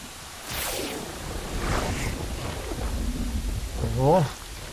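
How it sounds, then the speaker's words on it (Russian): Rain falls in the video game Hogwarts Legacy, a soft steady hiss with occasional whooshing gusts, while a voice speaks quietly under it toward the end. "Дождь."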